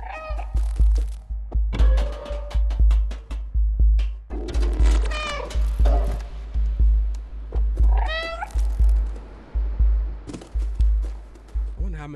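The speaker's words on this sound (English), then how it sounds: "I wonder how many different meow sounds they have." Cat meowing in the video game Stray, repeated short meows scattered over a steady rhythmic thumping beat, with talking in between.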